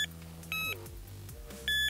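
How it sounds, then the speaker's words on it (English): Electronic bite alarm on a fishing rod setup gives two loud, steady high-pitched beeps about a second apart as the bobbin drops back, with low background hum between them. "that is when you may only just get one beep"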